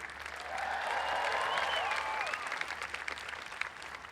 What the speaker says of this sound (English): and give a cheer for the teachers.